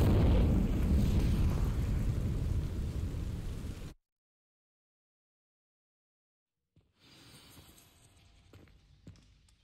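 A fire spell cast in Hogwarts Legacy, a loud, sustained roaring blast of flame lasting several seconds, then sudden silence before quieter ambient rustling returns.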